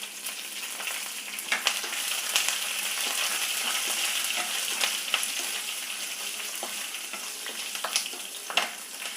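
Mustard seeds, urad dal, curry leaves and green chilies frying in hot oil for a lunch dish, a steady close sizzle with scattered sharp pops and crackles throughout, no voices.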